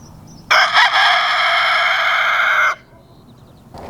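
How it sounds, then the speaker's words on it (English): A rooster from a small free-range laying flock crows once, loud and close, one sustained call of about two seconds against a quiet background. "I've got a ton of chickens here"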